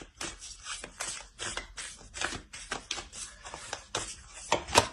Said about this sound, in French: je tire une carte.